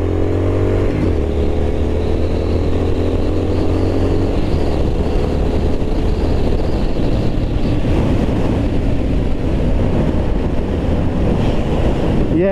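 A 2023 Triumph Scrambler 900 motorcycle being ridden, its engine note steady and loud under heavy, constant wind buffeting. The revs shift around the first second, then the bike drones on without a break.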